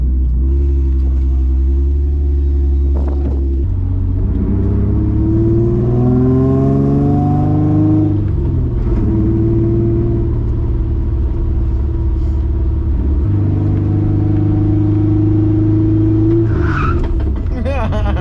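A Infiniti G35 engine hums and rumbles steadily from inside the car as it drives, with pitch rising and falling through gear changes.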